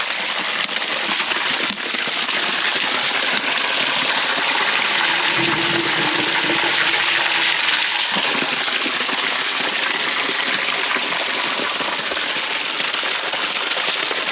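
Water gushes steadily from a newly pulled 200-foot well, a loud continuous rushing hiss that holds through the whole stretch, with a brief lower gurgling surge in the middle and no voices.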